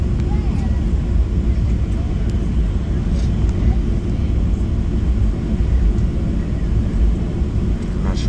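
A Southwest Boeing 737-700 airliner taxis at Phoenix, heard from the cabin as a loud, continuous low engine rumble and road roar that stays steady throughout.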